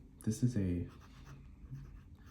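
A Jinhao x159 fountain pen writing Waterman Absolute Brown ink on paper gives soft, scratchy nib strokes close by, with a voice briefly audible at the start.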